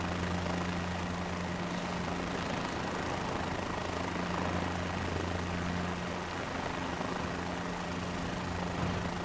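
Helicopter taking off in Microsoft Flight Simulator 2024, a steady loud rotor and engine roar with a low constant hum, continuous and unchanging throughout with no talk.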